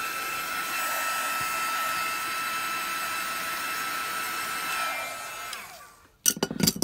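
Heat gun blowing hot air across paper book pages during a crafting project, a steady close roar with a high whine that fades out as it switches off, followed by a few brief clattering handling sounds.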